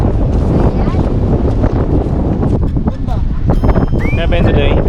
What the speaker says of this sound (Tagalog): Kasi lakas ng hangin dito guys.